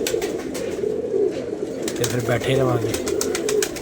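Pigeons coo at close range, with a couple of low, rolling coos standing out over a busy flock, while someone talks over them.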